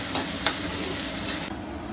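Green chilies, onions and curry leaves sizzle steadily in hot oil, with a couple of sharp spatula scrapes against the pan early on and a continuous close crackle throughout.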